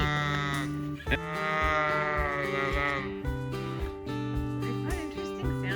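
Black sheep bleating repeatedly in a farm setting, a string of wavering, strongly harmonic calls overlapping one another, loud and close with brief gaps between cries.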